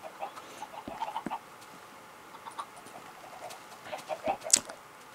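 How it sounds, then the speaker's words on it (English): Minecraft chickens cluck and squawk in scattered short bursts at moderate distance, soft overall with a sharper peep near the end, no talking. "We have lots of chicken."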